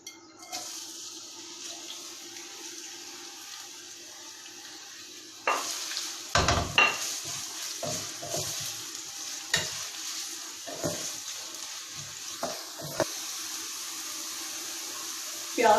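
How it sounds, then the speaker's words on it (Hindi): Sliced onions sizzle in hot oil in a pan while being stirred: a steady, close frying hiss that grows louder partway through, with scraping and clinks of the spoon against the pan. "ऑयल लेंगे, इसके अंदर डालेंगे हम प्याज"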